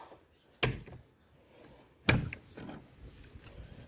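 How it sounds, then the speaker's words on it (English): A shed door on a house property is opened, with two sharp bangs a second and a half apart followed by a low rattle and scrape, close and otherwise quiet. "Let's open this shed."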